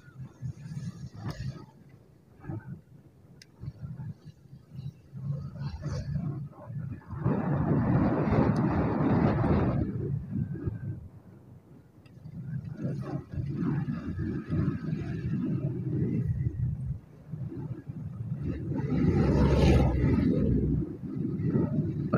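Strong wind rumbling and gusting against the microphone while riding a motorcycle, swelling and easing in surges, loud and low, with no clear talk.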